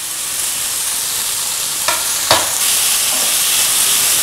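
Onions and green chillies frying in hot oil in a pan, a loud continuous sizzle with a couple of scraping stirs partway through.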